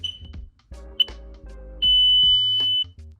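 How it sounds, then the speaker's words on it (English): Abode home security system armed to away mode, giving a steady high electronic beep tone close by after a short voice-assistant reply, with several brief beeps and one long sustained tone. "Set the Abode alarm to away. All right, you have 10 seconds to exit."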